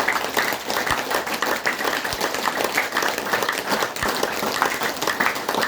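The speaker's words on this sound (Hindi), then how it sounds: "जोर जोर से ताली बजानी चाहिए, जोर जोर से, हो सके इतना जोर से" An audience claps loudly and steadily for several seconds, a dense, continuous wash of applause that stays at an even level throughout.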